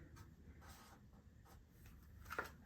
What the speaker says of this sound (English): I'm gonna take my purple marker and I'm gonna make all the notes with my purple marker